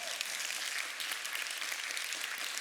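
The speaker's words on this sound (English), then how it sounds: "please, give them a big round of applause" An audience at a DevOps improv session applauds two volunteers, producing a dense, even wash of many hands clapping that holds steady throughout.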